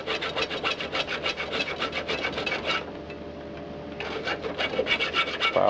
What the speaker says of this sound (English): File those edges right down.